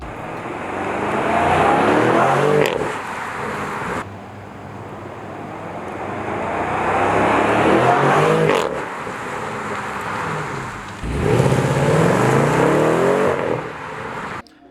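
A BMW M550i driving past outside, its V8 rising to a loud roar as it nears and fading as it moves away, three passes in a row with a brief rev, heard alone without talk.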